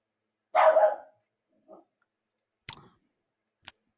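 A dog barks alone in a quiet room: one loud bark, then a faint short yip, followed by a few sharp clicks near the end.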